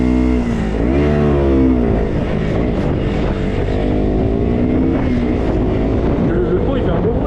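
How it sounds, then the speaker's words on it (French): A motorbike fitted with a LeoVince exhaust revs and holds a throaty engine drone, loud and close throughout, with its pitch rising and falling. "Le pot il fait un beau bruit hein. Petit pot Léo Vins gros."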